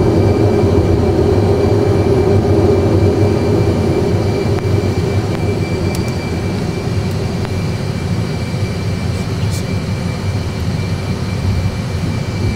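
Airliner engines at climb thrust just after takeoff and gear retraction, a loud steady roar with a droning hum that holds evenly throughout, heard from inside the cockpit.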